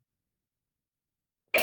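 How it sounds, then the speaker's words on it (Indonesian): A woman gives a single short cough or throat clear after a long silence, close and fairly loud. "Ibu agak sedikit batuk."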